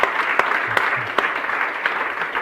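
An audience gives a speaker a round of applause at the close of a talk event, a dense steady patter of clapping with a few sharper individual claps, continuing through the short stretch.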